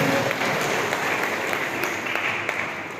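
An audience at a family gathering bursts into loud, sustained applause. Dense clapping fills the room and holds steady before easing slightly at the end.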